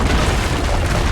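A single heavy cannon blast from a rampart in Assassin's Creed Brotherhood, a loud, close, rumbling boom that fills the whole moment.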